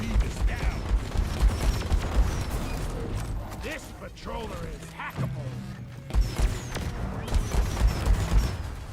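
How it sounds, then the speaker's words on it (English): Gunfire from a patrol bot shooting at the player in Deep Rock Galactic, bursts of clattering shots and mechanical clanks mixed with game effects, while someone talks over it. "I can hear you shooting at me."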